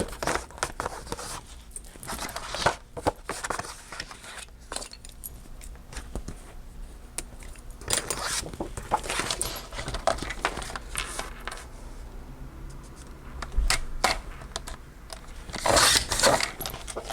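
Scissors cut through a paper bag for a handmade mini album, giving a close series of irregular crisp snips and paper crinkles with rustling handling noise between cuts.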